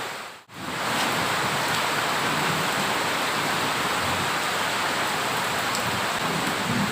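Heavy rain pouring down outdoors, a dense, steady roar of drops hitting surfaces that starts after a brief dip and continues loudly and evenly throughout.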